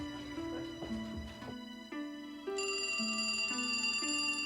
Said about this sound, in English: Dede's Aunt Celia was startled by a mysterious phone call